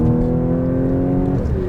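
A supercharged V6 engine in a 2015 Audi S4 (B8) revs up under acceleration, a loud, steady mechanical drone with rising harmonics and a pitch shift near the end, no voices.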